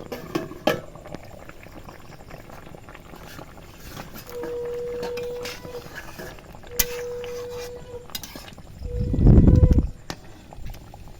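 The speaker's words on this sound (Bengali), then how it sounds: "এবার ঢাকাটা খুলছি" A lid comes off a pot of boiled taro, with a short burst of bubbling and clattering near the end after quieter kitchen sounds and a few faint tones.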